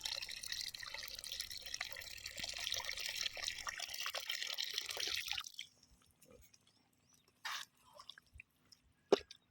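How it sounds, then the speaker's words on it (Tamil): Water poured into a spicy Chettinad chicken gravy in a pan: a steady, loud rushing splash for about five seconds, then near silence broken by a few short clinks and drips. "அடுத்து நம்ம கிரேவிக்கு தேவையான அளவுக்கு தண்ணி ஆட் பண்ணிக்கோங்க."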